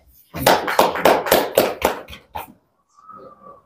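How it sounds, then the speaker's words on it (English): Handclaps at a state scholarship board event, about seven or eight distinct claps in a quick even rhythm, close and fairly loud, fading out before a voice begins speaking. "Please, a round of applause."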